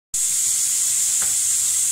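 Steady, loud sizzling of radish greens frying in a hot pan, a continuous bright crackle with no voices.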